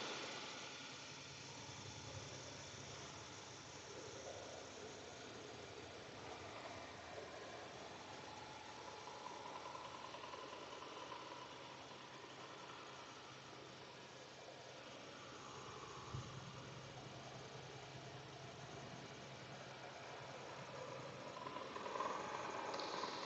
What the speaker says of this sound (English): Their engine is really loud.